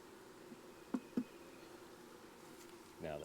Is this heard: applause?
no